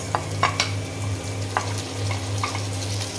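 Small shrimp frying with chopped onion, garlic and green chili in a pan, a steady close sizzle under a low hum with a few sharp spatula taps and scrapes, no talking.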